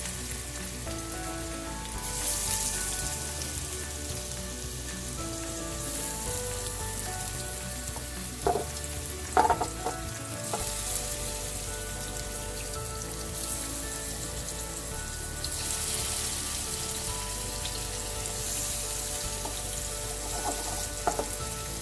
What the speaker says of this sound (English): We let this batch fry before we add the second batch.